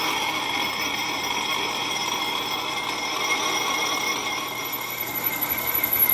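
A transmission servo piston face being trued on a machine, with a steady, continuous cutting and motor whine that holds even throughout and is heard alone at moderate loudness.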